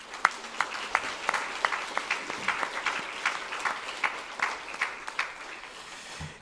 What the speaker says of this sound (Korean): 우리 교사들을 위해서도 한번 격려의 박수 보내주시기 바랍니다